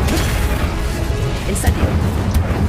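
Fire spell Incendio cast in the video game Hogwarts Legacy, heard as loud, dense blasting bursts with a sharp crack partway through, layered over continuous game combat noise.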